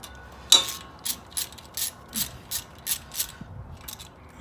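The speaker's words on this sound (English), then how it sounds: "I'm removing these bolts for the brake lines" Ratchet clicking in quick bursts on brake line bolts of a 2500HD truck during upper ball joint work, a close series of sharp metallic ratcheting strokes with short pauses between them.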